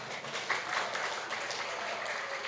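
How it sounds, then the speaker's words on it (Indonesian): An audience applauds at a Bung Karno month celebration in Bali, a brief wash of scattered clapping at moderate distance, steady and unbroken. "Tepuk tangan teman."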